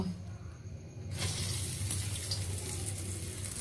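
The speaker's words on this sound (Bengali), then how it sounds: "এগুলোকে একটু লাল লাল করে ভেজে নেব" Steady loud sizzling and hissing of rosh bora fritters frying in hot oil, starting softer then jumping up and continuing without pause.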